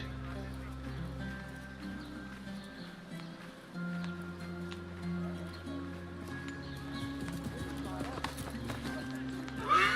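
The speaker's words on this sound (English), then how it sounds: "There is an NPC riding a horse." Hooves of a horse ridden by a non-player character clop through a city street in Assassin's Creed Mirage, a faint rhythmic patter under game music and ambient tones, with a voice talking.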